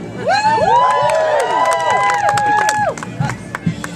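A theater audience cheers and whoops loudly after a rat's circus trick, voices rising and falling together, with scattered claps toward the end as the cheering dies down.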